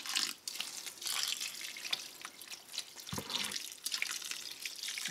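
Water poured into homemade seed starter mix, giving a faint, steady stream of splashing and trickling with brief gaps, and no voices.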